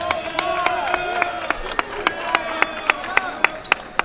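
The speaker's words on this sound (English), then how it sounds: "you could hear the applause of the crowd as the foul was actually finally called on Austin Hughes for going over the back." A crowd in a high school basketball gym reacts after a foul call, with broad applause and murmur beneath sharp, regularly spaced claps. Voices carry over the din.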